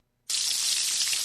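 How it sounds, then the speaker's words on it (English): Bacon sizzles on a hot grill, a steady bright hiss starting abruptly and holding loud and close with no voices. "That is the sound of bacon sizzling"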